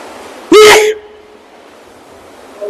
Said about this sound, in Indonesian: Sorry, bersin terus teman-teman.